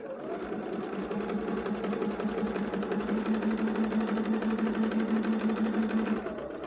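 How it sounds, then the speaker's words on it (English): A sewing machine stitches a curved quilt seam with a steady, rapid mechanical hum and fast needle rhythm, close and continuous for the whole stretch without talk. "So I pinned, and now I'm going to finish sewing this curve."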